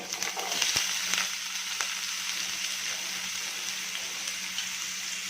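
Finely chopped onion frying in a pan for a mushroom masala, giving a steady, close sizzling hiss that continues throughout with no talking.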